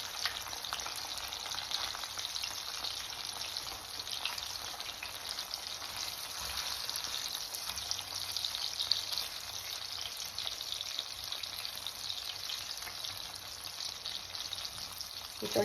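Food fries in a pan during a home-cooked recipe with a steady, dense sizzling hiss and a scattering of faint pops, close and continuous with no talk.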